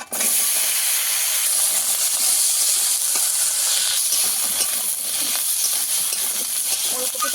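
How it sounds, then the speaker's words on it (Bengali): Chopped kohlrabi hits hot oil with fried chilli and cumin, setting off a loud, steady, close hiss of sizzling that holds for several seconds with faint utensil scrapes. "এবার কেটে রাখা ওলকপিটা দিয়ে দেবো"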